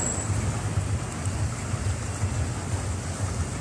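Sea waves wash steadily along the baywalk at Naga, Cebu, with continuous surf and wind noise and no distinct individual breakers.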